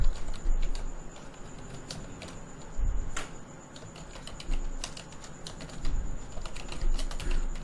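Steady typing on a computer keyboard while C++ code is entered, with close, irregular key clicks and a few heavier thumps that sound like the space bar or enter key, and no talking.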